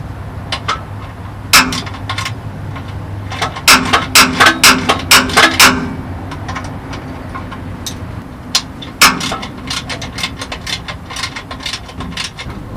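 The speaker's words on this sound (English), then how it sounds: "Oh, so I actually got bolts in. So let me get these tightened up a little bit." A ratchet tightens bolts on a truck, close and loud, with bursts of rapid clicking pawl strokes separated by short pauses and metallic clanks.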